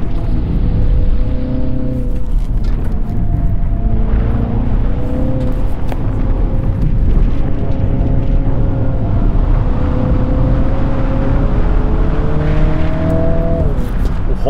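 Mini Countryman John Cooper Works with a 2.0 engine roars steadily as it accelerates, a loud continuous drone with rising engine tones through several gear changes, heard from inside the car.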